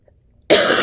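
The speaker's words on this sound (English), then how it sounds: "I'm still struggling with this stupid cough." A single sharp cough bursts out after a moment of near silence, loud and close.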